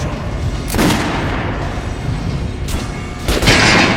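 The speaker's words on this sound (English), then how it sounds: "Now shoot the armored dummy." Gunshots at an armored training dummy in the video game Metro Last Light Redux: a few separate loud, sharp bursts spread over a few seconds, set against a steady background.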